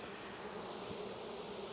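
Honey bees swarming around an opened hive during a honey harvest, a dense, steady buzzing drone filling the air, close and continuous with no voices over it.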